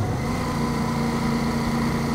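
An 800 cc, 92 hp car engine idles with a steady, even low hum and a constant drone, close and unbroken throughout.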